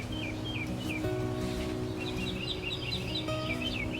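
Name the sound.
birds chirping outdoors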